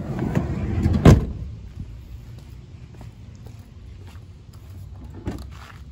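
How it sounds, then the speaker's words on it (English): The power sliding door of a 2009 Toyota Sienna shuts with one solid, close clunk early on, followed by a low steady hum and a few faint knocks. "Almost have the power door off."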